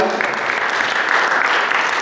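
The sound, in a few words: round of applause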